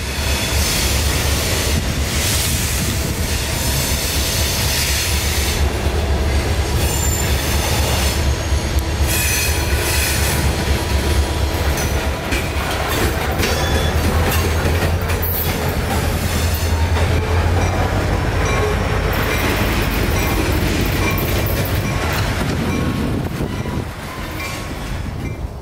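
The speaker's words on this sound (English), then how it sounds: "About an hour passes before the train re-emerges from the depths of the forest, with one less car than he had before." A freight train rolls along railroad tracks in Florida for a long stretch, loud and close, with squealing wheels, clattering cars and some wind noise on the microphone.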